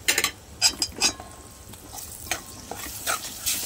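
Ground coconut paste is sautéed on a low flame, with soft frying hiss under a series of sharp spoon scrapes and clinks against the pan, close and intermittent, no talking.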